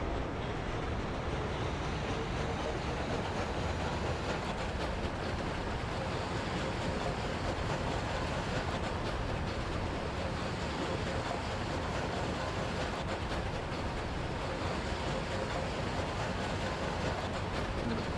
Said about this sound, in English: Let's take a normal train ride with the coal train going to the customs house past our city.